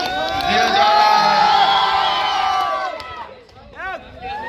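A crowd at a volleyball tournament award ceremony cheers and whoops loudly as a winner trophy is presented, a dense roar of shouting voices that dips and then breaks into scattered individual whoops near the end.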